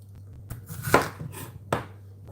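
A knife chops vegetables on a cutting board while meatball ingredients are prepared, three distinct close thuds spaced unevenly apart in a quiet kitchen.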